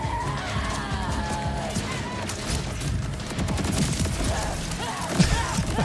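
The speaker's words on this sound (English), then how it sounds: "These fireworks are awesome." Dense, crackling fireworks bursts from a shield in Borderlands 4 game combat, a continuous loud barrage of pops and booms with whistling streaks, building toward a sharp blast near the end.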